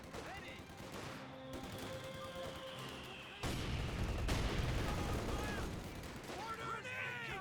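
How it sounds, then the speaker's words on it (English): A rifle grenade fires amid dense battle noise in Company of Heroes 2: repeated gunfire and explosions at moderate level under a continuous rumble, with a sharp burst near the middle. "Rifle grenade there."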